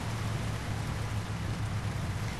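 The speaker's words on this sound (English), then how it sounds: "this rain has been raining for like 3 days now" Steady rain falls in the truck-driving game 18 Wheels of Steel Haulin, a constant broadband hiss with a low rumbling hum underneath, even and uninterrupted throughout.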